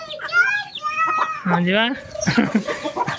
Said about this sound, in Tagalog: Yan ang ating mga kitingin at mga manok.